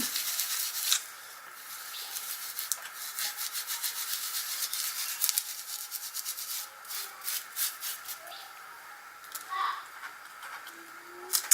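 A wet wipe rubbed back and forth over distress crayon ink on paper, giving a soft, close, continuous scrubbing rasp with uneven strokes and no voices.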